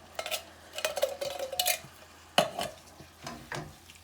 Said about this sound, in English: I'm gonna give that a little stir.